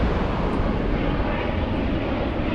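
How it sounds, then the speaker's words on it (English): A low-flying airplane passing over a quiet Osaka neighborhood near Itami airport, a loud steady broadband engine roar filling the whole moment without letup. "Look at how low that airplane is flying."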